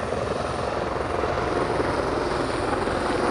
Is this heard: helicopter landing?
yes